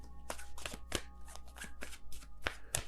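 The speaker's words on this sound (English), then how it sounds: "I'm being told to shuffle, so just bear with me. Normally I don't shuffle like this because my hands are too small to hold the cards" Tarot cards are shuffled by hand close up, a series of crisp riffling bursts and soft slaps repeating in quick irregular rhythm, alone without talk.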